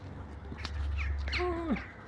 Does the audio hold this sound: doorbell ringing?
no